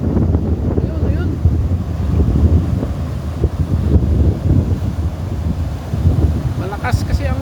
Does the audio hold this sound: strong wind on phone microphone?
yes